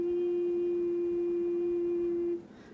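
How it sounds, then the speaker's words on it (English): An alto recorder sounds its lowest F with every finger hole covered: one steady, pure held note that rings alone for over two seconds, then stops, leaving only faint room tone. "So this recorder sounds like this with all the holes covered by the fingers."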